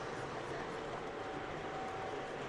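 An O gauge model passenger train runs on a large modular layout, giving a faint, steady rolling rumble with a soft whine, heard from a little distance with no talk over it.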